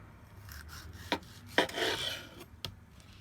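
A knife cutting food into quarter-inch sections, a few short, crisp slicing and scraping strokes on a cutting board, close and quiet with gaps between cuts.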